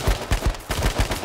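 Automatic AK rifle fire in the battle-royale video game H1Z1, a loud close burst of rapid shots with brief gaps, heard alone without talk.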